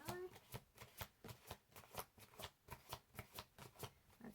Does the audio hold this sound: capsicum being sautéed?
no